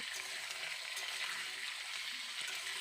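Cut potatoes frying in hot oil for aloo posto, a steady close crackling sizzle with faint stirring scrapes throughout, no talking.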